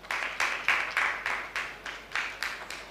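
Audience at a dance competition grand finale claps in a steady, rhythmic pattern, with about eight evenly spaced bursts in under three seconds. The clapping is moderately loud and heard on its own, with no voices over it.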